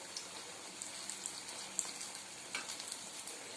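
A papad sandwich frying in a pan, turned golden on both sides: a soft, steady sizzle with faint crackles and occasional pops, fairly quiet and close, with no talking.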